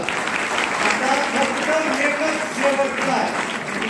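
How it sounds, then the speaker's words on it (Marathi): An audience at a district talent hunt and poster competition prize ceremony claps continuously, a dense steady wash of applause with a voice speaking over it. "वा वा, जोरात टाळ्या वाजवा."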